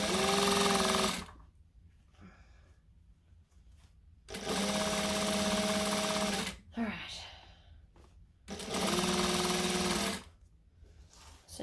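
A sewing machine topstitching a jacket, three loud bursts of fast steady stitching separated by pauses with quieter handling noises and brief speech between them.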